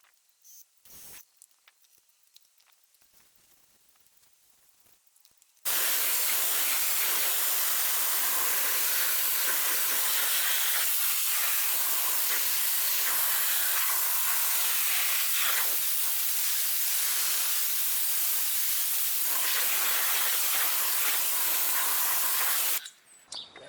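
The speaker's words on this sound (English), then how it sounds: "let's get the power washer and finish this up" A power washer spraying out a wheelbarrow during a cleaning job, a loud, steady hissing blast that runs for about eighteen seconds after quiet handling noises and then cuts off abruptly.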